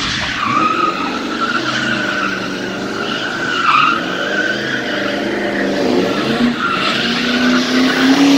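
A Mazda Miata drift car slides on a wet track, its engine droning loud and steady while tires skid and squeal throughout, no talking audible.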